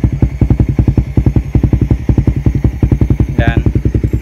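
A Suzuki Raider 150 Fi motorcycle engine running right after starting, a loud, close, steady rapid putter of even firing pulses throughout, with a brief higher tone near the end.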